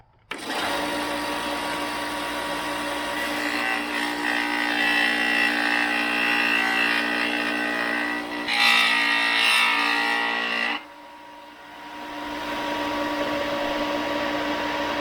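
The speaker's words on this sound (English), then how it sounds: "We're going to use a sander." Power sander smoothing a rough edge on a rail, a loud continuous whirring buzz running for several seconds with brief pitch shifts under load, then cutting off abruptly into a quieter hum.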